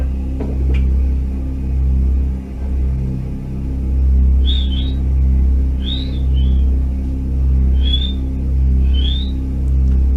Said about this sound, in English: You'll hear here the whistling first of all, and then the barking.